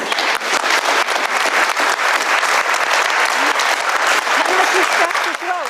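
Loud, dense audience applause at a televised political leaders' special, a sustained wall of clapping with a few raised voices and cheers mixed in.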